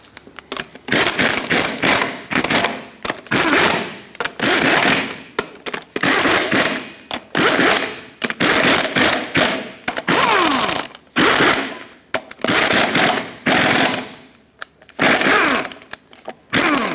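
Impact wrench bursts tighten the eight lug nuts on a 2000-2005 Ford Excursion front wheel, a string of loud, rattling hammering runs each a second or so long, separated by short pauses, close and alone.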